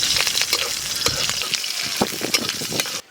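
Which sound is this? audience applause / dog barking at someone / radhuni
radhuni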